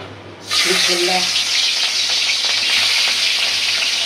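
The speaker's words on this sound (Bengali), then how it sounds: "এই যে আমার রুই মাছ সুন্দর করে একটু ভাজা হয়ে গেছে" Rui fish pieces coated in turmeric, salt and a little chili powder drop into hot mustard oil, bursting into a loud, close, continuous sizzle that holds steady throughout.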